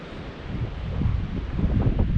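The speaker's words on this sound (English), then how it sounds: "It's still a little windy." Wind gusts roar steadily across the microphone at the Grant Bay lookout above a clear cut, a dense low rumble that builds slightly louder toward the end, with no voices.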